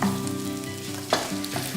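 Italian sausage frying gently in a pan, a steady close sizzle with soft stirring scrapes and a couple of brief louder clatters, no talking.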